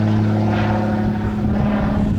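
A propeller airplane passes loudly overhead near an abandoned base, a continuous heavy droning roar that fills the whole stretch at steady close volume with no talk.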